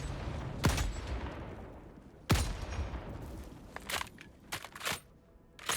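Anti-materiel rifle shots fired at a Fleshmob in the video game Helldivers 2, two heavy isolated blasts a couple of seconds apart, followed by a cluster of lighter impacts and crunches.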